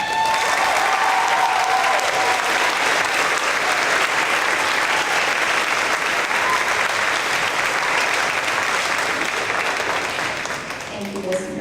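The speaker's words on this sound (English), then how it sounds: "I love how they cheer for each other and give each other high fives." Third-grade children at a school awards ceremony cheer and applaud together, a dense, steady roar of clapping and shouting that holds strong for about eleven seconds before easing slightly at the end.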